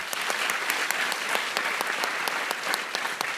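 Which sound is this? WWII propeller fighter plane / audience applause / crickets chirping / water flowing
audience applause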